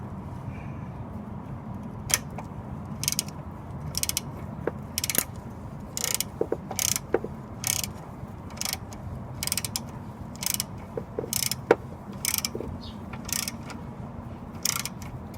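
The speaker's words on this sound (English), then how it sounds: "Now I'm going to take first my regular wrench and tighten that a little bit" A ratchet wrench tightens a bolt during a 42RE transmission install, giving repeated short bursts of sharp clicking at a steady rhythm over a low background hum.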